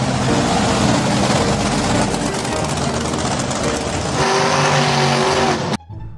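A toy off-road or monster truck engine revs loudly and steadily, then shifts pitch before cutting off abruptly near the end, with faint talk underneath.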